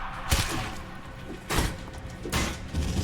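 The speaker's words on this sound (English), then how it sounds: "What's with the goddamn explosions?" Explosions go off in the video game Elex II as three heavy, booming thuds spaced about a second apart, each with a rumbling tail over a constant background roar.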